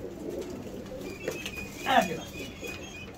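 A wing-clipped pigeon gives a short coo with a flutter near the middle, close by, against a quiet background hum.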